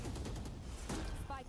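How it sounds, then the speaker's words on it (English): Bursts of rapid gunfire in a Valorant esports match ring out in quick, crackling volleys at moderate loudness, with a brief sharper burst near the end. "Just avoiding some of that gunfire."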